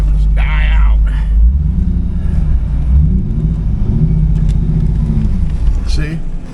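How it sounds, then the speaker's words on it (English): The LS1 engine in a 1998 Chevrolet Corvette C5 being parted out idles with a low rumble that sags and dies out when the clutch is pressed, with people talking nearby. "It just doesn't want to stay running."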